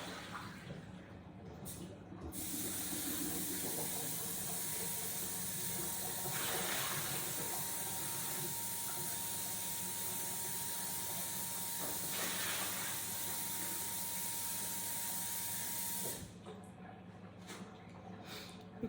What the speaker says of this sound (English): I'm gonna rinse the potatoes.